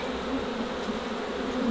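Honeybees buzz at an open hive in a dense, continuous hum, close and steady, with no voices over it.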